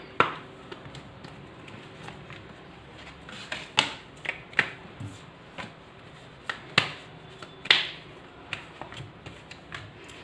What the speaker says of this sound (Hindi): एक पायल और एक डेक से हम और निकाल लेते हैं कार्ड्स